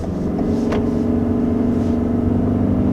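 A 2021 Toyota Sienna minivan accelerating up to speed, heard from inside the cabin as a steady loud engine and road rumble that holds evenly throughout.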